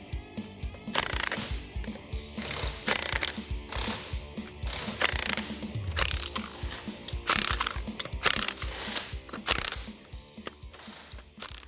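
A ratchet wrench cranks Nismo heavy-duty open-end forged lug nuts onto the wheels of a 2025 Nissan Frontier Pro-4X, giving close, loud bursts of rapid clicking with metallic clanks between strokes.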